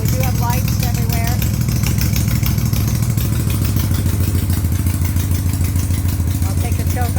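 A Harley motorcycle engine that hasn't run in a long time idles on choke with a loud, steady clattering beat, rumbling continuously and up close.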